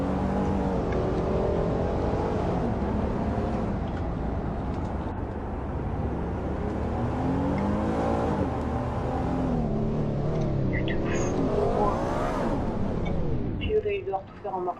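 Car driving in the Roblox video game, a steady synthetic engine drone rising and falling in pitch as it speeds up, with a person talking over it throughout.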